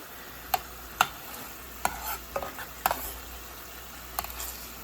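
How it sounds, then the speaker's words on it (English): Salmon and shrimp cook in a garlic honey sauce over medium heat, with a soft sizzle under scattered spoon clicks and scrapes as sauce is basted over the fish, heard close and without speech. "while it's cooking, you want to just baste your salmon with all that juice and that sauce around it"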